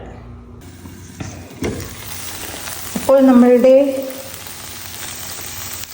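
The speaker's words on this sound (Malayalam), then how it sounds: "ഇനി നമുക്ക് ഇത് മെഴുക്ക് പുരട്ടാം." Sliced okra stir-fries in a pan for a Kerala-style mezhukkupuratti, a steady sizzling hiss running through most of the moment, with a brief voice speaking partway through.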